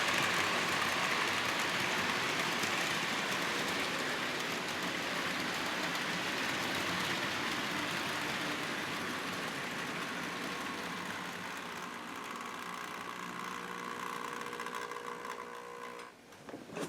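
An HO scale DCC model train locomotive runs a slow lap around a home layout, its small motor making a steady whirring hum that gradually eases off near the end; no one speaks.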